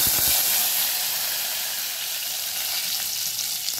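Curry leaves hit hot oil already browned with garlic and a pinch of asafoetida, giving a loud, steady, close-up sizzle and hiss that holds unbroken throughout, with no voices.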